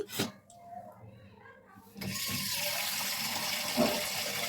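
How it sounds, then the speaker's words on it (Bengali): Sago pearls being washed in water by hand, with changes of water: splashing and a brief voice at first, then a steady loud rush of running water from a tap that continues to the end. "বেশ কবার জল পাল্টে পাল্টে আমি ধুয়ে নিলাম"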